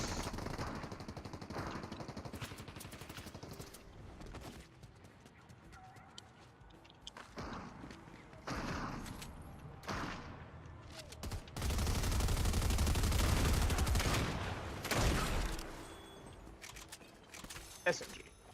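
SMG gunfire in the video game Fortnite: rapid bursts of automatic shots crackle over a busy game mix, with a person talking throughout and a dense, louder stretch near the end.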